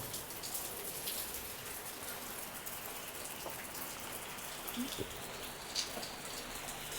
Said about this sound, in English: Look at this rain. It already done flooded out in front.